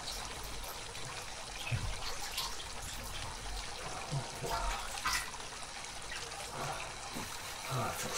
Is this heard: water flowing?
yes